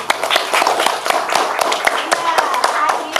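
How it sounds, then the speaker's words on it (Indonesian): Classroom of elementary school children clapping for Pak Iris and Pak Ati, a brisk, uneven burst of many small hands patting close by, sharp claps scattered over a steady rustle. "tepuk tangan untuk Pak Iris dan Pak Ati"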